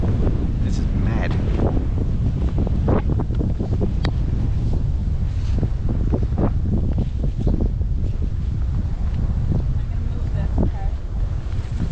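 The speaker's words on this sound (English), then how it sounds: "That wind is nasty right now." Strong, gusty wind on an exposed hiking trail buffets the microphone in a loud, constant roar, with rough bursts throughout and no clear speech.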